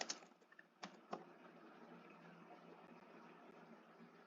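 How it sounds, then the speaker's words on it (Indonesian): Keys clatter on a computer keyboard in a few quick taps near the start, then quiet background hiss carries on, all very faint. "Kita bisa mengetik pertanyaan atau instruksi."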